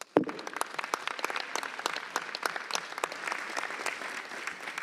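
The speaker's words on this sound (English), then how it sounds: "a very loud of applause to thank you for giving our continent an opportunity coming up next year" Sustained applause from a congress audience in Zürich, a dense crowd of clapping hands that starts abruptly and continues steadily at a moderate distance, with no voices over it.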